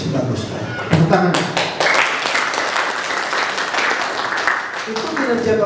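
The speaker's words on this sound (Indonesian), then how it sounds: "Tepuk tangan." An office audience at a performance review meeting breaks into loud, close applause with a few sharp individual claps at the start. Voices talk over the clapping toward the end.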